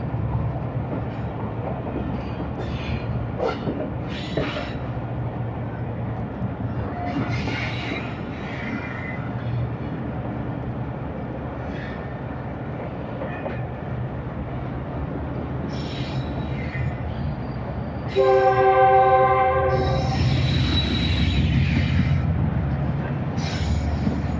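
The restored Khushhal Khan Khatak Express, a passenger train on Pakistan's ML2 route near Jampur, rumbles along with scattered wheel squeals. Near the end a loud, sustained multi-tone horn blasts over the running noise.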